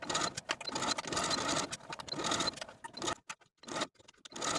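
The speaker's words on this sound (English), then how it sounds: "now I'll take it back to my sewing machine and edge stitch all along the bottom fold of this binding" A sewing machine edge-stitches the folded binding along a tank top's neckline in loud, continuous whirring runs, broken by a few short pauses near the end.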